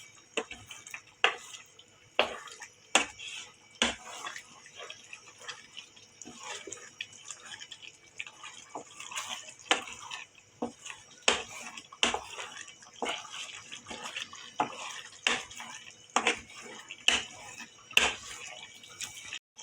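Chilli chicken curry bubbling in a pot, with sharp intermittent pops and clicks scattered across a quiet simmering background, steady and close throughout.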